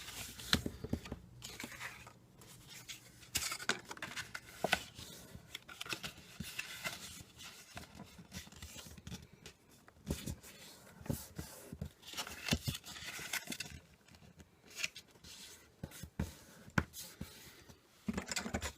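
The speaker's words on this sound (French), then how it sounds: "Donc je vais marquer les plis tout simplement." A bone folder creases folds into paper for a scrapbook album, giving quiet scraping, rubbing and crinkling strokes in irregular bursts, close and soft.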